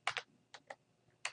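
Quiet keystrokes on a computer keyboard as a password is entered: a quick double burst of keys, two separate taps, then another pair at the end, close and soft with no talk.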